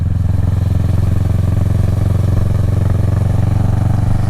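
Naked sport bike fitted with a Two Brothers aftermarket exhaust, its engine running with a steady, loud, deep throbbing idle and no noticeable revving, close by and alone with no talk.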